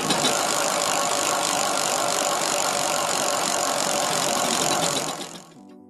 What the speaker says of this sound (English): Let's spin the wheel and see which portfolio area we'll be looking at today